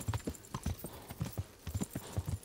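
Horse hooves clip-clop in a quick, steady rhythm while riding through a medieval setting in the video game Kingdom Come: Deliverance, close and clear with faint ambient noise behind.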